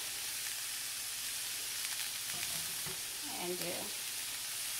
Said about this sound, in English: a few more minutes, stir fry